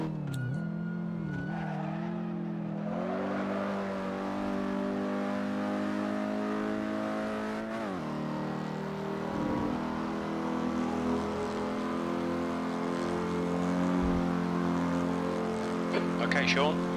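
Alfa Romeo Giulietta Spider race car engine in Assetto Corsa at Donington Park 1938, a steady droning tone that dips briefly near the middle then climbs again as it revs, with someone talking over it throughout.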